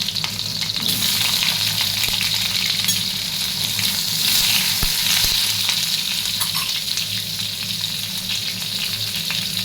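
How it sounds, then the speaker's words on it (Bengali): Raw mango pieces fry in hot oil with a steady, loud, crackling sizzle that holds evenly throughout, with a couple of brief soft knocks partway through and no voices. "কাঁচা আম কেটে রেখেছি তেলটা গরম হলে এবার আমগুলোকে ছেড়ে দেবো তেলের ওপরে"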